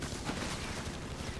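Continuous gunfire from a jeep in Company of Heroes 3, a dense, unbroken rattle of shots at steady loudness, with faint talk beneath.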